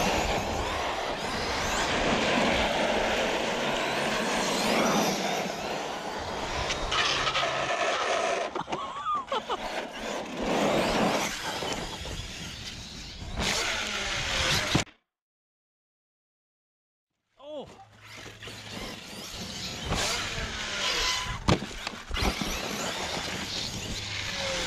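An Arrma Big Rock 6s RC truck drives hard and launches, its loud, close motor whine and tire noise rising and falling before cutting out into a few seconds of silence, then roaring back in.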